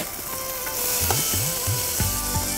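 Methi leaves stirred in a hot pan while making sambhar, giving a steady sizzle with a few soft scraping strokes of the spoon, close and alone with no talk.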